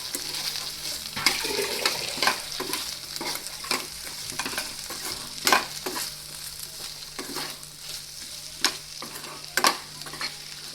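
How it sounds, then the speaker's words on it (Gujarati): Potatoes and green chillies fry in a pan while a spoon stirs them, a steady sizzle broken by repeated scraping clatters, close and fairly loud, with no talking. "તો આપણે મરચાં એડ કરી દઈશું અને તેને હલાવીને મિક્સ કરી લેશું."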